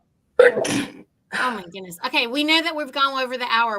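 A single sharp sneeze bursts out close to the microphone during a podcast recording, and people begin talking right after it.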